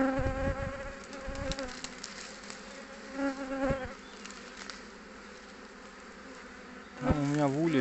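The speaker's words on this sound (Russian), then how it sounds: "Молодая пчела, вот видно, молодая пчела" A swarm of young honeybees buzzes close by at an apiary, several insects whining past at shifting pitches, the hum swelling and fading as they fly around.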